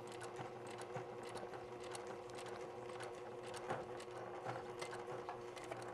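A sewing machine stitches slowly through a padded gear bag, giving a steady, quiet mechanical whir with light rhythmic ticking of the needle. It runs continuously and fairly close, with no talking.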